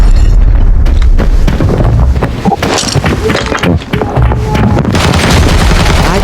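FAL rifle fire in the video game Arena Breakout: loud, dense bursts of gunfire and booming impacts fill the whole stretch, with heavy low rumble and no clear pauses.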